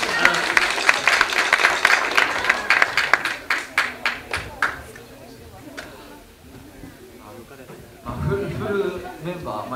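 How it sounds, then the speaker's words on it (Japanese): Audience clapping at a live concert, a dense burst of applause that thins into scattered claps, then gives way to murmuring crowd and a voice over the room. "みんなジン君にも拍手"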